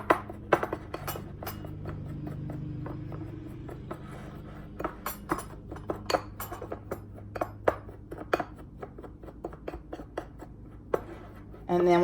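A utensil stirs light butter and a dash of salt into cookie crumbs in a bowl, making irregular scraping clicks and clinks against the dish. The mixing is close and fairly quiet, with a faint low hum underneath.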